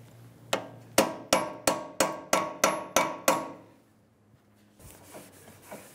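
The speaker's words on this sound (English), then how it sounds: "Using a punch and a hammer, we're going to stake the axle nut." Nine sharp metallic hammer strikes on a punch, staking the front axle nut of a 2007-2011 Toyota Camry, in quick, even succession, ringing close up, followed by a pause and a few softer taps.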